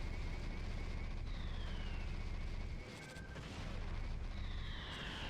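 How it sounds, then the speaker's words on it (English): Cannon fire and bombs in the Omega Boost video game, with dense booming blasts and rumbling under sweeping whistling tones, continuous and loud with no voices. "He just really likes to shoot me with the cannons and the bombs."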